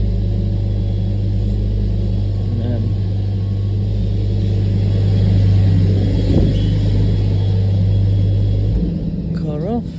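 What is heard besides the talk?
2020 Mercedes A45s engine running while steering lock to lock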